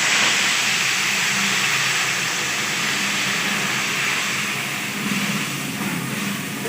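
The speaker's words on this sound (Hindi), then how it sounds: "अभी हम इसमें दूध डालेंगे 1 लीटर।" A steady, loud sizzling hiss fills the pan as a litre of milk is poured into roasted semolina for halwa, continuous and close with no talking.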